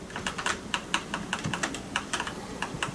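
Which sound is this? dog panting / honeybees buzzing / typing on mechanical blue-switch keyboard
typing on mechanical blue-switch keyboard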